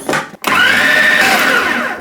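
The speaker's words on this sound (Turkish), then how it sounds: "Bütün közlemiş olduğumuz domates ve biberimizi robottan geçirelim." A food processor blends roasted red peppers and tomatoes, starting with a short pulse, then running as a loud, continuous high-pitched whir that holds steady.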